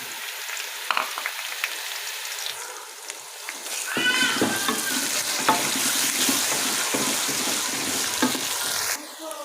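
Loud, steady sizzling of garlic-ginger paste frying in hot oil for a beef karahi, beginning after a quieter stretch, with occasional stirring scrapes and clinks close by.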